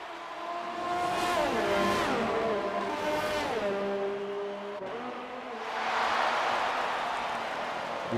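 Formula 1 cars in the F1 2019 racing game scream around the Australia circuit, engines rising and falling through gear changes as they pass close by, loud and continuous.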